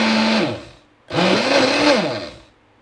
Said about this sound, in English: 5 eggs in the blender. I'm just gonna blend this up.